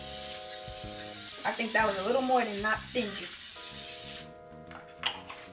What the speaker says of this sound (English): spray the cupcake holder with some Baker's Joy non-stick baking spray